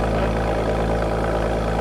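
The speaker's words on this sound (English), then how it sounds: "that valve exhaust is just great" A Porsche engine with a valve exhaust runs at a steady idle, a loud, close, even low drone with a constant rumbling hum and no voices.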